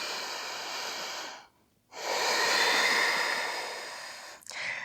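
Deep, slow yoga breaths during a stretching flow: a long, loud airy breath, a brief pause, then a second long steady breath that fades, with a short sharp inhale starting at the end, close and alone with no talking.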